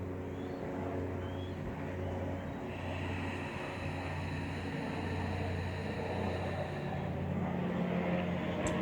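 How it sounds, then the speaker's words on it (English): A steady engine drone with a low rotor-like hum runs throughout, fairly loud and constant, with no voices. "in this case it's a helicopter, so once in a blue moon you'll hear that in the background"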